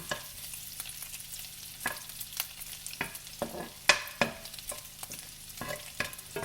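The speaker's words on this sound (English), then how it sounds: "I'm going to keep this grease in here because I'm going to fry up the sausage in it." Sausage frying in leftover grease in a home kitchen, a soft continuous sizzle punctuated by repeated clicks and scrapes of stirring, fairly quiet and close, with no voices.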